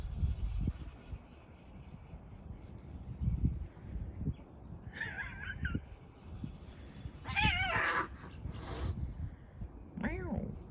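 Cats yowl and growl in a scuffle, with rising-and-falling screeches bursting out in several short bouts over low rumbling and rustling.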